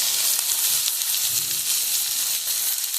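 Turmeric and chilli paste sizzle steadily in hot fish oil, a close, continuous bright hiss of frying that holds an even level throughout with no voices.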